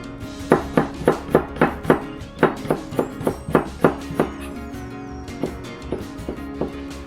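Cheongyang green chili peppers are sliced with a knife on a cutting board, giving a steady run of about twenty crisp, evenly paced chops that slow and thin out toward the end.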